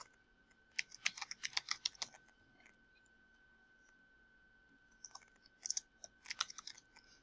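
Fingers tap out two bursts of quick keystrokes on a computer keyboard, close and crisp, separated by a quiet pause of a few seconds, with a faint steady electronic whine underneath.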